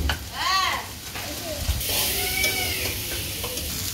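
Mustard seeds sizzle and fry in a hot pan at close range, with a steady hissing crackle and a brief louder burst as something is added, while a person talks over it.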